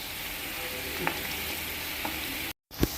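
Diced ivy gourd (dondakaya) frying in hot oil in a pan, giving a steady close sizzle throughout with a few soft clicks of stirring, and one short gap of silence near the end.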